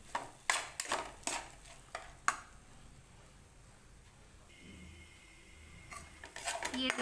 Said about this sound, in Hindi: अब इसको अच्छे से चला लेंगे और हम भून लेंगे इसको।